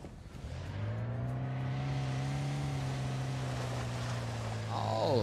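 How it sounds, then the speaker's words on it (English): A car engine in Arma Reforger, a steady droning hum whose pitch climbs and then settles as the vehicle drives nearby. The engine note stays fairly loud and continuous and grows a little louder near the end. "I hear a car."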